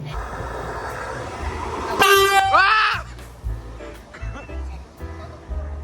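Inside a moving train, the rumble carries on while a loud horn blasts for about a second, followed by a falling, whistling tone and quieter clatter.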